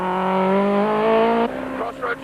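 A Nissan Sentra rally car running down on power revs hard near by, a strong engine note that climbs through a gear and then drops off with a short burst of lift-off sound.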